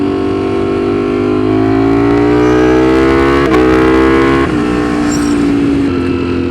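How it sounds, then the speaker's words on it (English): A Ducati Streetfighter V4 motorcycle engine revs high and loud, its harmonic whine climbing steadily and staying close and sustained, with a brief shift around the middle before it rises again. "I cannot get over the sounds that this frickin' V4 makes."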